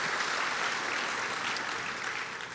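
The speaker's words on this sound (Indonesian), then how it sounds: "Berikan tepuk tangan kita untuk Tuhan kita." A church congregation claps together in sustained, dense applause, a steady roomy patter with no pauses across the brief moment.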